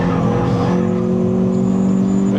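Renault Clio 182 on track at Thruxton Circuit, engine droning loudly and steadily in-car while the tyres squeal under understeer, a thin high whine riding over the constant engine note.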